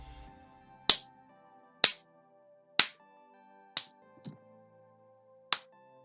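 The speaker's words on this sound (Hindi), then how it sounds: "अब आप अपने दोनों हाथों की मदद से 6 ताली बजाएं।" Six sharp hand claps spaced roughly a second apart, each a crisp isolated slap with quiet pauses between, close and fairly loud in an otherwise silent room.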